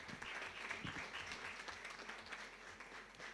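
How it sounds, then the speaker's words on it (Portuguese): Audience applause fills a legislative chamber during a solemn session honoring athletes, greeting the president of a practical shooting federation; dense, steady clapping that stays fairly soft and distant throughout. "pedimos uma salva de palmas dos presentes"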